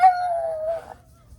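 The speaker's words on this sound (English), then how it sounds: "I got a dog here running in circles." A dog lets out a single sustained howl, close and fairly loud, gliding slowly downward before it tails off.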